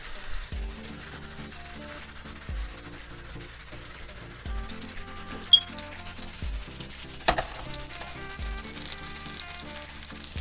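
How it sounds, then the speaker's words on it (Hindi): Gola kebabs pan-fry in a little oil over low heat, giving a soft, steady sizzle and light crackle with a few sharper pops and some low knocks near the pan. "इसको हल्का सा ऑयल डाल के फ्राई करना है। इस तरह आप इनको हल्की आंच पे फ्राई कर लें।"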